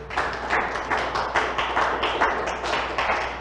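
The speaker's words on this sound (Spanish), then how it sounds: "Vamos a darnos un aplauso a cada uno de ustedes" A small audience claps together in a steady, moderately loud burst of applause with rhythmic pulses, indoors, with faint voices under it.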